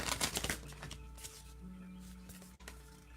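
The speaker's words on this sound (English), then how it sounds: "I am going to pull one more of these angel cards" A deck of angel cards is shuffled in a quick burst of crisp riffling clicks up close, then settles into quieter handling as a card is drawn, with a low hum underneath.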